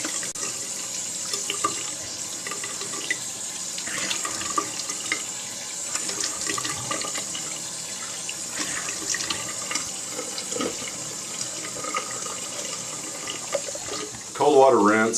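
A bathroom tap runs cold water into a sink for a rinse after a straight razor shave. It makes a steady, continuous hiss that grows louder and splashier in the final second.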